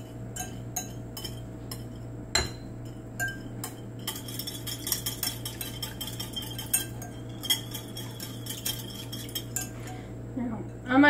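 A whisk works olive oil and olive juice into a Greek salad dressing in a bowl, giving close, busy metallic clinks and scraping taps that run steadily throughout, with no talk.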